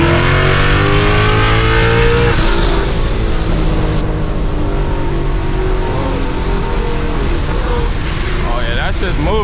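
A 1100-horsepower Ford Mustang accelerates hard on a city street at night: a loud, close engine roar climbs in pitch through the gears, with brief voices heard over it.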